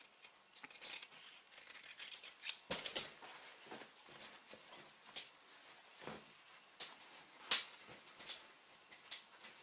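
Scissors snip along the hem of a pair of jeans being shortened, a 1.5 cm seam allowance trimmed off in a string of quiet, close crisp cuts with small rustles of denim between them.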